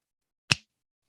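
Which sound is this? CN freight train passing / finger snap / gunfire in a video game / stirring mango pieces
finger snap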